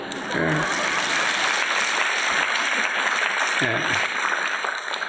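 Steady, dense applause from a church sermon audience fills the whole stretch, with brief voices briefly audible underneath.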